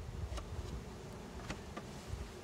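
Packaged honeybees settle into their new hive, giving a continuous close buzzing hum with a few light ticks and knocks and no talking.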